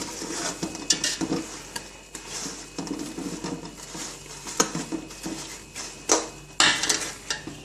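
A spoon stirs mango pieces in a pan for sweet avakaya, producing steady scraping and clinking against the metal, with irregular louder knocks throughout and no talk.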